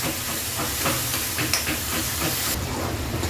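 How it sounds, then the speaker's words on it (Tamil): Onions and tomato sautéing in a hot pan, a loud, dense hiss of steam and sizzle that runs steadily throughout, with faint stirring clinks. "இது ரெண்டும் சேர்த்து நல்லா வதங்கட்டும்"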